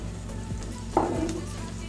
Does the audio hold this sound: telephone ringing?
no